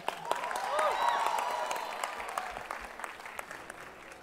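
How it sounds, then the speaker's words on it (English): An audience at a management institute convocation breaks into applause and cheering. The clapping swells early, peaks near the middle, then tapers off, with scattered shouts and voices mixed into the crowd. "Big applause,"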